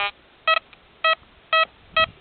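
Metal detector giving its signal over buried iron: four short, evenly spaced electronic beeps, clear and fairly close, with a faint hiss between them and no talking.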